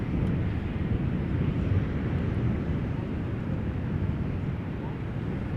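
An Embraer 190 arriving at Amsterdam Schiphol Airport makes a steady low jet rumble outdoors, continuous and fairly loud throughout, with wind buffeting.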